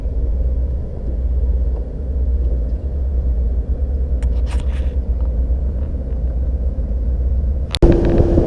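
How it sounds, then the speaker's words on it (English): A big river barge passes, its engine a steady deep rumble that holds for several seconds alongside faint scattered knocks, with a sharp bump near the end. "But big old barge, maybe we'll get us a barge bite."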